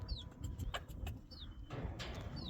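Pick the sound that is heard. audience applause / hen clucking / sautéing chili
hen clucking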